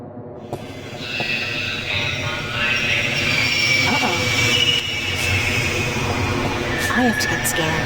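A subway train in the Newport subway of the video game The Longest Journey rumbles steadily with wheel squeal and rail noise, filling the whole stretch as a continuous loud ambience.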